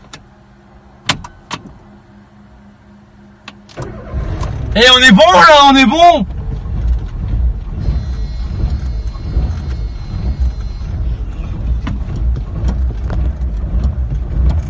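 A hot Peugeot 206 rally car engine turns over and settles into a steady, rumbling idle close by, with a person briefly talking as it catches.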